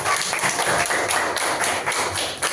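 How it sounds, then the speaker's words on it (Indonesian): Pupils in a secondary-school maths class clap for a group, a dense, loud burst of many hands with a rhythmic, slightly unified pattern close by. "beri tepuk tangan untuk kelompok"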